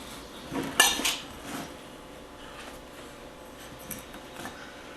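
A homemade ancho chili seasoning blend is mixed in a container, with one brief burst of clinking and rattling near the start before fading to quiet room tone.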